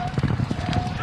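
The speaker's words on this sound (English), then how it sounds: "These horses are able to run like you wouldn't believe." Horses galloping at speed down an Indian relay race track, a rapid rhythmic clip-clop of hooves running continuously under a voice talking over the top.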